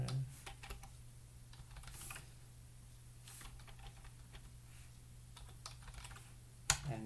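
Someone types a git command on a computer keyboard, a quiet, irregular run of key clicks with one sharper keystroke near the end, close by and with no voices.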